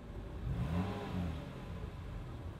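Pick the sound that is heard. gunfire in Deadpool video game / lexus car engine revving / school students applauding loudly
lexus car engine revving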